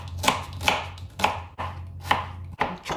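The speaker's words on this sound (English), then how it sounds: "So we chop the shallots" A knife chops shallots on a board in six distinct, evenly spaced strikes, each a crisp close thud-and-click with no voices.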